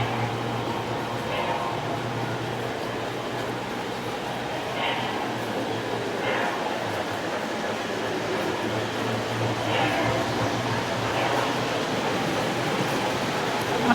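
Model O scale train running through mountain scenery on a layout, a steady low hum and rolling rumble with faint clicks, carrying on under voices.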